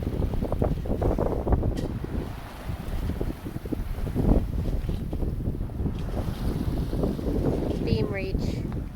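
Steady wind rushing and buffeting over the microphone aboard a sailboat on a beam reach at about six knots from Toledo to Leamington, Ontario, with water sloshing against the hull throughout and a faint voice at moments.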